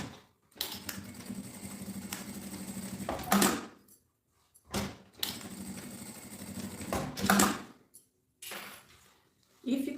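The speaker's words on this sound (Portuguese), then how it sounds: "Aí, a gente passa a costura." A sewing machine stitches a seam on a backpack strap in two steady runs of fairly quiet mechanical whirring, separated by brief pauses and a few handling knocks.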